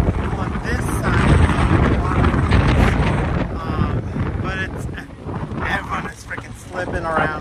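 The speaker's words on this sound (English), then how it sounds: "It's windy." Strong wind buffets the microphone beside a highway in Portland, Oregon, in loud, roaring gusts, with rushing turbulence that rises and falls throughout.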